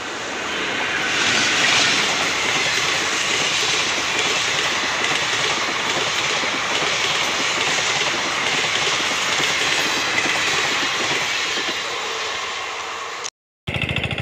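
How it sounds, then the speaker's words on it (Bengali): A train passing on the adjacent railway line beside a bridge: a loud, close, continuous rumble and rattle that holds steady for many seconds before cutting off abruptly. "পাশের লাইন থেকে ট্রেন যাচ্ছে"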